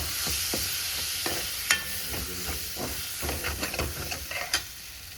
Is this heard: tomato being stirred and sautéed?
yes